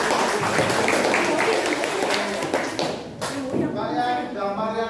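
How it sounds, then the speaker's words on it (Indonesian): A classroom of students claps for a classmate's answer, a dense burst of close, rapid hand claps that fades after a few seconds, with voices talking over it. "tepuk tangan dulu jawabannya"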